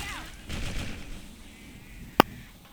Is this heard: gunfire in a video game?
yes